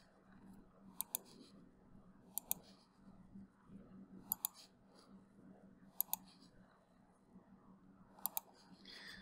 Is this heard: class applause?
no